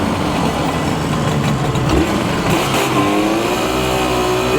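A Suzuki GT200 X5 parallel-twin two-stroke motorcycle engine revs while riding up an incline, its pitch rising and falling in close, steady, buzzing pulls with no talk over it.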